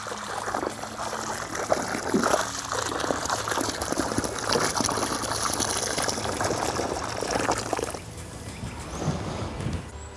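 A watering can pours water into a planting hole for a hydrangea in a garden bed. The water makes a steady, close trickle and splash for about eight seconds, then fades to quieter dribbling.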